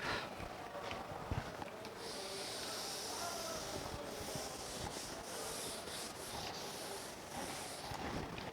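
A classroom board is wiped clean with steady, close rubbing strokes, a continuous scratchy swishing that fills the whole stretch.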